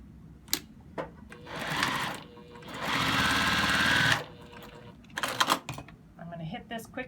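A sewing machine stitches quilt block pieces in a short continuous whir lasting about a second, surrounded by handling clicks and fabric rustling, with a person talking around it.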